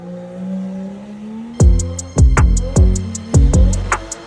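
A car engine misfires, sending a loud run of evenly spaced pops and bangs over its low running hum.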